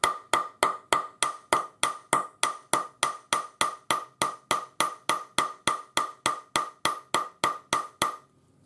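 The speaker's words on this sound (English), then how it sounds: "And this is just a chasing hammer that I'm using." A steel chasing hammer with a ball end strikes a folded metal pendant about two dozen times at an even, brisk rhythm, each ringing tap close and clear, then stops.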